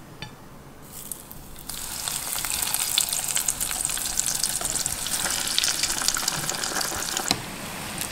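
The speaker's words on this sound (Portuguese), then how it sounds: "Vou continuar fritando aqui, já mostro pra vocês." Steady bubbling sizzle of coxinhas deep-frying in hot oil, loud and continuous with crackling pops, no voices.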